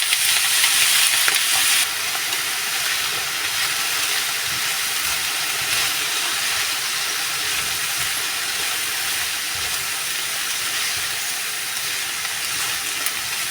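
Dried red chillies fry gently in a pan, giving a continuous hissing sizzle that stays even and fairly loud for the whole stretch, a bit brighter at the very start.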